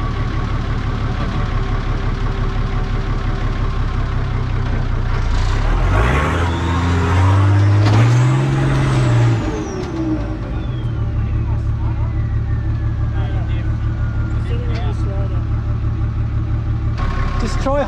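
An off-road vehicle grinds through an obstacle at night, its engine idling steadily, then rising into a strained rev and falling back to a rumbling idle, with people talking nearby.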